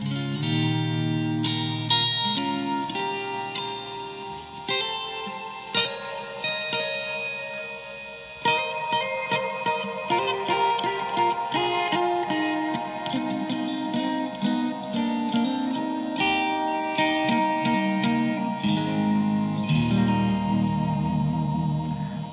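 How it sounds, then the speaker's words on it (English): Electric guitar plays chords and single-note lines through a Blackstar Core ID 40 amp, each note trailing into the amp's spacious, washy reverb tail; no voices. "so that's the reverbs of this amp."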